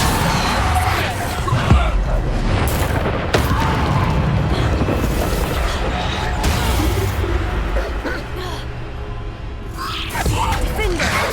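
Repulsor spell cast in Hogwarts Legacy, a forceful magical blast with booming impacts and crashing debris over a dense, continuous bed of in-game combat noise, with several sharp hits spaced across the clip.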